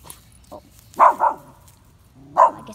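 Puppy barking at a bee, a few short sharp barks with one softer yip before them, close to the microphone in an otherwise quiet space.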